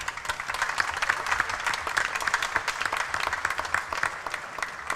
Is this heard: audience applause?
yes